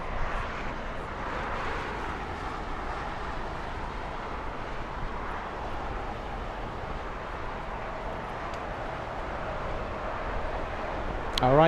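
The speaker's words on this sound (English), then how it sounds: "incredible braking system on the 747 might slow down Nippon Cargo" A Boeing 747 Nippon Cargo jet lands and brakes, a broad steady roar of engines and rushing air lasting throughout at moderate distance, with a voice talking under the noise.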